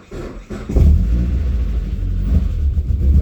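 Nissan car engine just started and idling with a rattly note while oil pressure builds, a loud, steady low rumble close by after an uneven first second.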